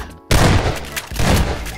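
Gunfire in the Garry's Mod Prop Hunt game, a loud burst of rapid shots kicking in abruptly and continuing in dense, thumping volleys, close and harsh.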